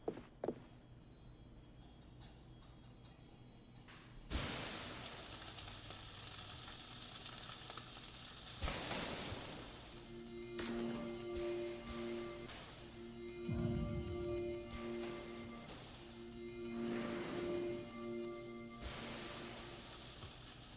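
A steak fries in the Chef Life restaurant simulator game, with bursts of loud sizzling that rise and fall between quieter stretches and occasional tonal game chimes, close and continuous.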